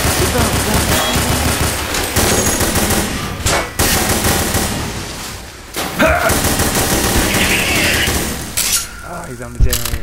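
Sustained rapid gunfire in a video game, dense bursts of machine-gun shots rattling loudly and nearly nonstop with brief pauses, while players shout over it.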